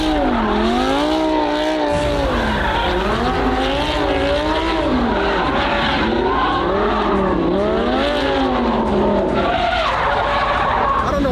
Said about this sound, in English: Grab gears, lots of smoke, lots of revving.